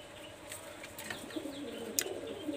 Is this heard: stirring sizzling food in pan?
no